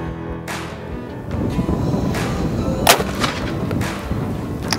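A 12 gauge shotgun fires once at a lock from about three meters outdoors, a single loud sharp blast with a short echo tail amid light background noise.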